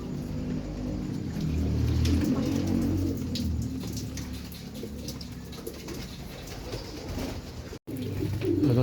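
Pigeons coo in a low, soft murmur inside a loft after a bath, with dripping water and a steady rustling backdrop.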